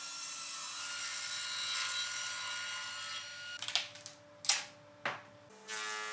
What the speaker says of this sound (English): I can trim off the excess from the 4x2s at the table saw